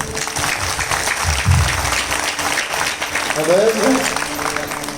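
An audience claps at a Hindu kirtan gathering in Nashik, a steady, moderately loud patter that continues for the whole stretch while someone talks over it.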